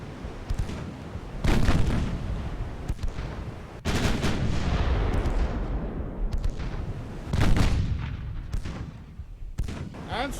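Heavy naval gunfire from a video game battleship armed with Royal Navy guns of the Dreadnought era, including 3-inch and 6-inch weapons, with shells bursting nearby. Repeated loud booms and blasts arrive in a dense, rolling barrage with no speech over them.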